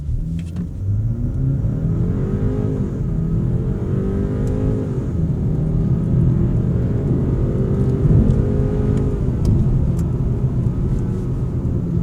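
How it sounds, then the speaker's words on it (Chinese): A car engine revs and accelerates with a smooth, artificial-sounding drone that climbs and shifts in pitch, steady and fairly loud throughout. "然后我们来看一下它的引擎声浪，应该是有 Fake Sound 啦"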